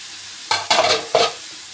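Shrimp with green beans and carrots, seasoned with chili powder, turmeric and salt, stirred in a pan in three quick bursts of scraping and sizzling, close and clear, with no talking.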